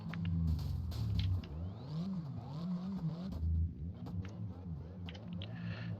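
Car engine bogging down in sixth gear, a low rumbling drone with wavering, sagging pitch that rises and falls without clear revving, steady and fairly loud throughout.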